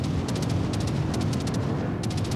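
Dense, rumbling warship gunfire booms continuously in World of Warships, with bursts of sharp crackling repeating every half second or so over a loud, heavy roar.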